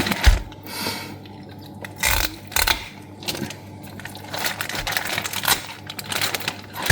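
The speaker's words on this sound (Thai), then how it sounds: "คือกรรไกรคมมากเลยนะ" Sharp scissors cut through a raw whole salmon in close, irregular crunching snips and wet clicks, spaced unevenly over a low background hum, with no talking.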